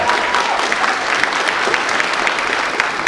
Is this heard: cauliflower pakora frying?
no